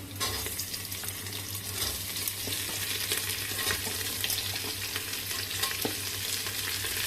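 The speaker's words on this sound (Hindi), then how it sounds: "यहीं पे हम प्याज को डाल देते हैं।" Onions fry with chillies in a pan for chole samosa filling, giving a steady, close sizzle with intermittent stirring scrapes and clicks throughout.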